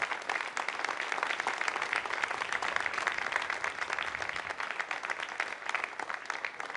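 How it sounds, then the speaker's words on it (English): Sustained applause fills a control room after an Ariane 5 rocket separates the ATV-3 cargo spacecraft, a dense, even wash of many hands clapping continuously. "And the applause heralding the good news."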